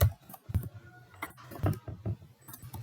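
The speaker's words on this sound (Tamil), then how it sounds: "அதனால் நான் இங்கே டைப் பண்ணுறேன்" Irregular bursts of key taps from a computer keyboard while entering class diagram details in ArgoUML, with uneven clusters of clicks across the stretch and no voice.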